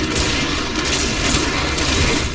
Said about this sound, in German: Aber bei den Explosionen hier muss ich aufpassen.